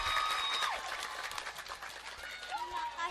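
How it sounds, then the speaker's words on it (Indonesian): Audience applause at an Islamic sermon by a female preacher, a steady wash of clapping running through the moment with tonal voices and talk mixed in over it. "tepuk tangan dulu"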